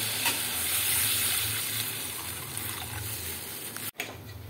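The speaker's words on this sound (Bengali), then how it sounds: "এবার দিয়ে দেবো জল।" Water poured into a simmering hilsa fish curry in a pan, a steady broadband gush and sizzle running close and continuous for several seconds before stopping abruptly near the end.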